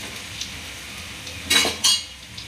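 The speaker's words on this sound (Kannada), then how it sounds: "ಸ್ವಲ್ಪ ಫ್ರೈ ಮಾಡ್ಕೊಳ್ಳಿ." Onion frying in a pan for a brinjal masala curry, a low sizzle broken by two sharp metallic scrapes of a spoon stirring against the pan, no voices.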